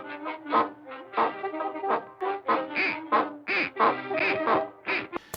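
A run of loud, nasal cartoon duck quacks in quick bursts from the 1929 Mickey Mouse short The Barn Dance, close and busy, with car horn honks mixed in.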